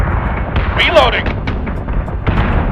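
Ship artillery fire in the space combat game Battlestar Galactica Deadlock, a burst of loud booming cannon blasts with crackling explosions and a sweeping whoosh, dense and close over game ambience.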